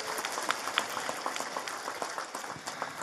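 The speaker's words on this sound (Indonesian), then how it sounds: "Saya minta tepuk tangan dulu dong." Quiet, dense applause from a village audience at a religious gathering, a steady patter of many hands heard at a distance.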